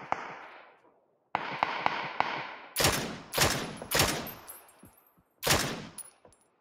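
Bursts of video game gunfire crack out in quick, sharp volleys, some rapid strings of shots and some single loud reports with short gaps between them, close and loud with no talking over them.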